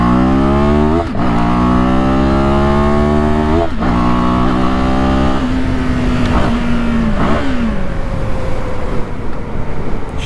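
A CFMOTO 700 CLX motorcycle engine revs hard and close through several rising gear pulls, each climbing whine broken by a quick shift, then holding a strained high drone before easing off.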